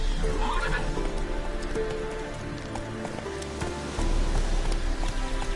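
Geralt's horse Roach, in The Witcher 3, whinnies clearly early on, with hoof clip-clops and rain pattering on surfaces throughout.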